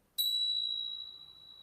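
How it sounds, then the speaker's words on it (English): A meditation bell struck once rings out with a bright, pure tone that sustains and slowly fades over the following seconds in an otherwise quiet room. "Try focus on what the bell sounds like."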